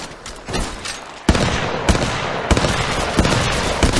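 Gunfire in Apex Legends Mobile crackles in bursts, with sharp loud shots landing at uneven intervals over a busy background, and some quieter pops before the heavier volley begins.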